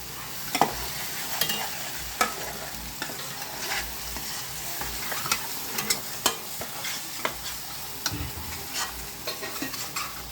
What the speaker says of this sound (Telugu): ధనియాలు, జీలకర్ర, లవంగం, చెక్క, యాలకులు, గసాలు అన్నీ కలిపి అందులో వేయండి. దాన్ని బాగా తిప్పండి.